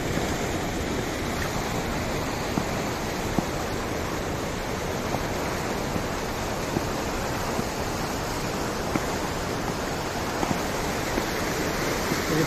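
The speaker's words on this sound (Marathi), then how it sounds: "लय ओढते पाणी जोरात" The Patalganga river rushes strongly and steadily, a dense, loud roar of flowing water filling the whole stretch without pause, with no voices over it.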